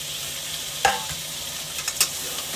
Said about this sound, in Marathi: ते असं चांगलं परतून घ्यायचं